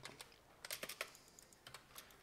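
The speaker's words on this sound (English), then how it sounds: "You can probably hear me smashing around the keyboard" Rapid computer keyboard typing during CAD work, quiet bursts of crisp clicking keystrokes in quick clusters with short pauses between, close to the microphone.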